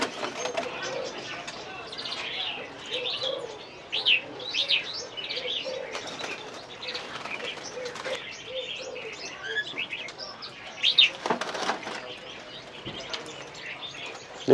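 Many caged ornamental songbirds chirp and sing without pause at a bird stall in Vạn Phúc antique market, Hà Đông, with busy overlapping tweets, a few louder calls and faint background voices.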